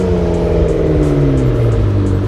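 A McLaren sports car engine roars loudly and continuously at close range, its revving tone climbing steadily, with no one speaking over it.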